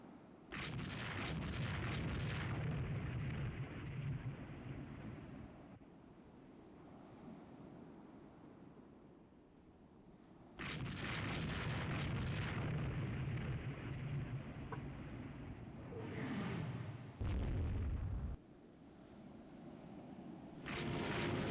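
Heavy explosions from torpedo hits thunder through a naval battle in the game Rule the Waves 3, long booming rumbles that swell, fade and return amid surf-like noise, with no talking.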